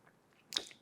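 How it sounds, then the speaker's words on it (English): A person undergoing radiation treatment swallows once, a single brief, close, soft wet gulp in an otherwise quiet moment. "That is just me swallowing."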